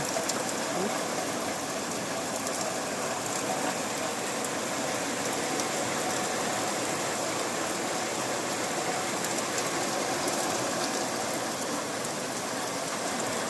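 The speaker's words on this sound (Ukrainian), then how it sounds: "Пішов такий сильний ливень." Heavy downpour during a thunderstorm in the Carpathian highlands near Verkhovyna, a steady, dense hiss of rain drumming on surfaces that continues loudly and evenly throughout, with no voices.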